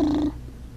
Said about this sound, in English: Can't you hear it purr?